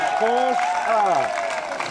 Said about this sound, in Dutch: Applaus voor Isran Dalma.